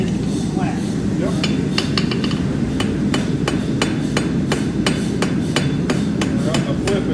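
A hammer strikes metal repeatedly to flatten it, giving sharp ringing clanks, some in quick bursts and others spaced out, over a steady background rumble.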